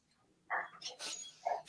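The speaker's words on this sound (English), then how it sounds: "I just have to let my dog in because she's scratching." A dog whimpering and whining at a door to be let in, a few brief soft whines and yelps, faint and close, with no talk.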